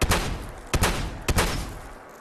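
Three separate hip-fired shots from an Overwatch-themed weapon mod in Fallout 4, each a loud, sharp blast with a short decaying tail, evenly spaced about half a second apart.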